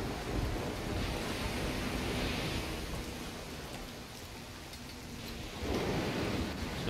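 Rain pours steadily in a stormy scene from Risen 2: Dark Waters, a dense broadband hiss with a low rumbling swell of thunder near the end, loud and continuous with no voices.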